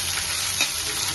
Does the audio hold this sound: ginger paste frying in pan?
yes